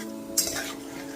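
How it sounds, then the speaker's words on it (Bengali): Pointed gourd fries with spices in a pan over a medium gas flame, a brief close sizzle with one sharp scrape of a spoon partway through, no speech. "গ্যাসের ফ্লেমটা মিডিয়ামে রেখে পটলগুলো খুব ভালো মতো মশলার সাথে একটুখানি কষিয়ে নিতে হবে।"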